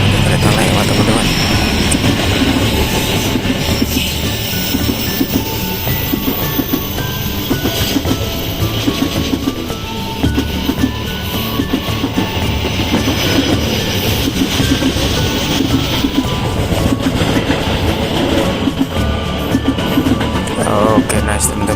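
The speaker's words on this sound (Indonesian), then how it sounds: "ada kereta lewat teman-teman" An executive-class passenger train rumbles past close by near Cirebon, Indonesia, for the whole stretch, with steady clattering wheels and a sustained loud roar, a voice briefly talking over it.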